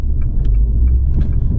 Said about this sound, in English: let's have a listen to that exhaust